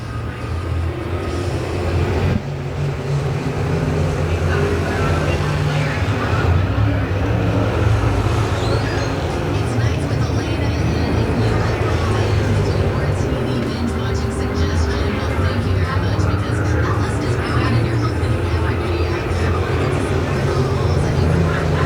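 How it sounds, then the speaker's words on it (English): Open-wheel modified race cars practicing at Dixie Speedway, a continuous loud engine roar with steady droning from the track throughout, and a voice talking over it. "So the little open wheel modified, something new, something different for 2020 here at Dixie Speedway."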